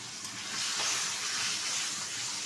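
Washed hilsa fish head dropped into hot oil tempered with cumin seeds and turmeric, giving a steady, bright, hissing sizzle that stays fairly loud and constant throughout, with no talk over it.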